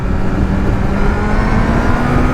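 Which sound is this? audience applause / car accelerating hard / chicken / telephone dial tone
car accelerating hard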